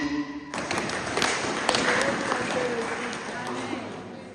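A church congregation breaks into sustained applause after a member of the diocese family and nurturing council is asked to stand, the dense clapping starting abruptly and filling the hall steadily.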